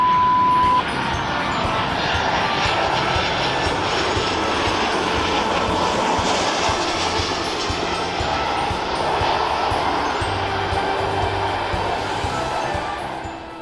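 A Ryanair airliner arriving from Alicante passes overhead with a loud, steady jet roar that holds for the whole stretch and eases off slightly at the end.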